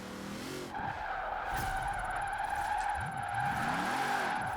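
A car in Forza Horizon 4 slides sideways on worn tires, giving long, loud tire squeals over a revving engine that rises and falls in repeated sweeps.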